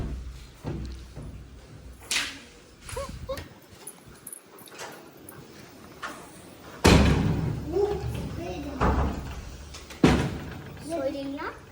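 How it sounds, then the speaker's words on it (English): Resort-room cupboard doors bang open and shut in a string of loud thuds and slams at close range, with people talking between them. "cupboard doors open"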